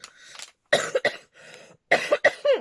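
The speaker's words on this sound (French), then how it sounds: "Attention, je vais tousser." A run of close, harsh coughs in two clusters, several bursts each, with brief pauses and quiet breaths between them.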